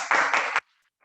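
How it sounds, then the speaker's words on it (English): Meeting attendees applaud in a short burst of clapping that lasts about half a second and then cuts off into near silence. "a good round of applause to all of us"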